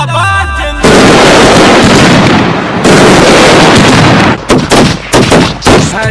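A long, loud barrage of firecrackers crackles and bangs continuously, then breaks into a rapid string of separate sharp pops and bursts.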